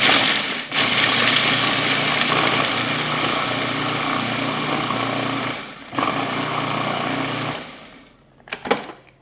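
A food processor pulses nuts into a crumbly meal with loud, steady motor whirring in long bursts, broken by brief pauses and ending in a few short rattling pulses.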